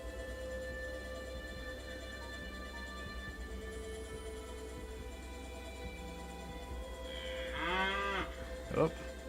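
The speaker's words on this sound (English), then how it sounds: "The Cape Buffalo's call could use a little bit of work. It sounds a little bit more like a domestic cow" A video game Cape buffalo call, a low, cow-like moo, rises near the end over a steady ambient hum and faint background tones, followed by a short grunt.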